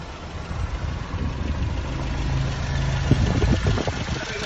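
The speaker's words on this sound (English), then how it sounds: "It hesitates a little bit there. It sort of splutters when you put full throttle." A Land Rover Series 3 engine fitted with a Weber carburettor runs steadily at a low, even idle with a throbbing mid-low drone, a faint uneven note creeping in toward the end.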